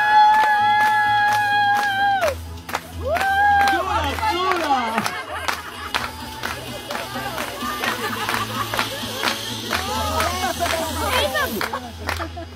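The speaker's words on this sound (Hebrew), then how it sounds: "תנו לה כפיים, תנו לה!" Guests at a child's birthday party clap in a steady rhythm, with lively chatter and voices over the claps and a tonal party sound at the start.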